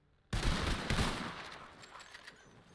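Deputies fire a rifle volley in a roleplay western game: after silence, a sharp near burst of overlapping shots cracks at once, followed by a second report and a fading echoing tail.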